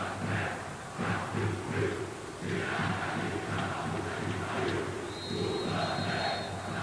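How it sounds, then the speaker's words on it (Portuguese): Two sets of football supporters boo together at the final whistle of Vasco versus Botafogo in Maracanã stadium, a broad sustained roar of crowd noise with a commentator's voice faintly present. "As duas torcidas vaiam."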